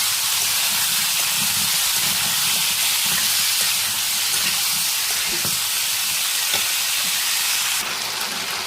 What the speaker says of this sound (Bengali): আর মশলাটা ভালো করে কষিয়ে নেব